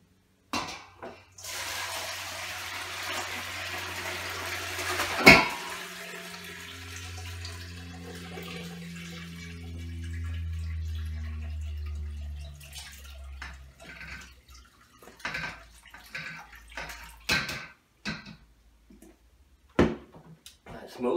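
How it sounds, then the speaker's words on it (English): Homemade vegetable broth from scraps runs steadily out of a pot into a bowl, a continuous liquid pour that fades, then gives way to clinks of pots and utensils and scattered drips. "Let the broth run out, pour the vegetables into the other one,"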